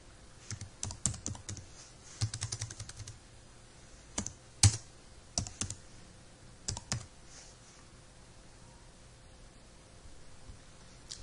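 Computer keyboard typing in bursts of quick clicks spread over several seconds, with pauses between, fairly close and moderately loud over a quiet background hiss, no speech.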